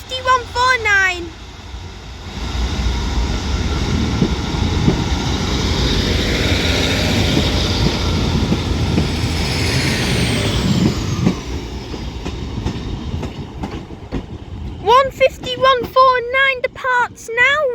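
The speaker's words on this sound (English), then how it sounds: "1410 Northern service to Ormskirk, which will start here at Preston with the Northern 150 of 150-149" A Northern Class 150 diesel train departs Preston station, its engine rumbling loud and close and then fading as it pulls away, with station announcements heard before and after.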